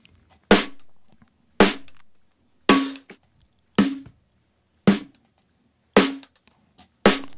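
Seven evenly spaced snare drum hits recorded by a close microphone with the low end filtered out, each crack bright and snappy with a quick decay, heard alone.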